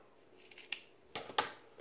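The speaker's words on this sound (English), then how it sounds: "then we're going to trim down the excess to make sure that it's even with your zipper tape" Sharp scissors snip through excess fabric, trimming it even with zipper tape while sewing a sweetheart shoulder bag; a few crisp, close cuts spaced across a quiet room.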